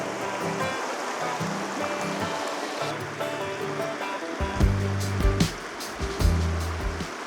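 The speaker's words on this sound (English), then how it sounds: "How about waking up to the sounds of the beautiful river in the morning?" A river flows past a campsite along a graded bush track near Mount Panorama and the Bridle Track, a steady rushing wash with louder splashing surges toward the end.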